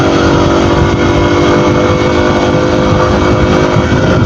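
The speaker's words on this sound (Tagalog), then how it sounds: "At ang gamit ko ngayong motor ay ang aking YTX 125." A YTX 125 motorcycle ridden uphill in Ternate, Cavite, heard as a loud, unbroken engine drone mixed with heavy wind rush, close and steady throughout.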